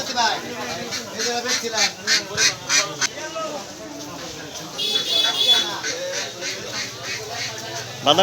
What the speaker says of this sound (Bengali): এটা হচ্ছে হাঁস মুরগি কবুতরের হাট